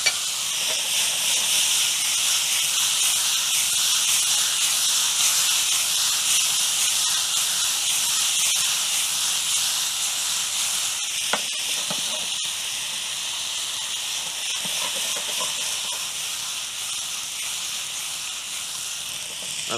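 Marinade hissing and steaming in a hot wok pan with beef and vegetables, a loud continuous sizzle that fades slightly over time, with a few brief knocks partway through.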